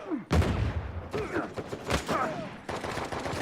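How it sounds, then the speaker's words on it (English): Pistol gunfire in an Uncharted 4 multiplayer team deathmatch cracks in quick bursts of sharp shots, some near and some farther off, with brief voices mixed in. "that's the best part about that particular particular pistol is just its fast fire rate"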